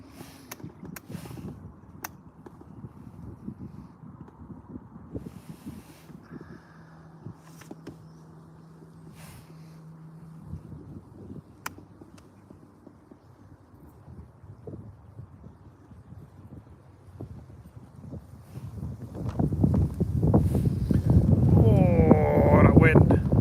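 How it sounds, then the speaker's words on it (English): Wind gusts across open water on the Norfolk Broads beside a small fishing boat, buffeting the microphone with low rumbling blasts and scattered knocks. The gusts are uneven at first, then swell into a loud, sustained roar near the end. "Oh, that wind."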